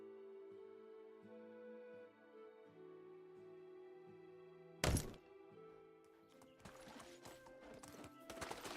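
Horse hooves clip-clop steadily while riding in the video game Medieval Dynasty, a quiet rhythmic gait under game ambience, broken by a sharp thump and some later clatter.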